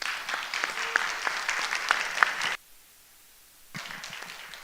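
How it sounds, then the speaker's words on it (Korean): An audience at a theology forum claps for a speaker, a crisp burst of individual hand claps that stops abruptly into near silence, then a few scattered claps return. "한번 다시 박수로 환영해 주시기 바랍니다."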